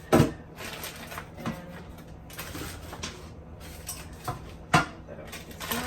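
A small cooking pot is handled in a home kitchen, giving several sharp metallic clanks and knocks at irregular intervals, close and fairly loud over a quiet background hum.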